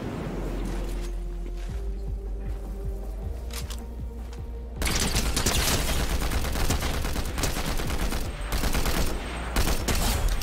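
Rapid gunfire in the Fortnite video game, dense overlapping shots and bursts filling the clip, growing louder and heavier in the second half.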